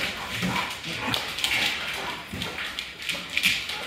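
German Shepherd puppies in a kennel whimper and yip in a busy overlapping chorus of high, thin cries, close by and fairly loud throughout.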